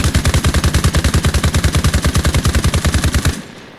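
An NSV heavy machine gun fires from a defensive gun nest in one loud, sustained, evenly rhythmic burst of rapid booming shots, close and unbroken, then stops abruptly near the end.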